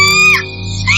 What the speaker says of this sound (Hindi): सिद्धार्थ के लाख मना करने पर भी उसने अपना हाथ बक्से के अंदर डाला और जोर से चीखी